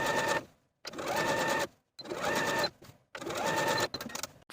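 A sewing machine hems the sleeves of a T-shirt in three loud, close bursts of rapid stitching, each lasting about a second and separated by short pauses, with no talking.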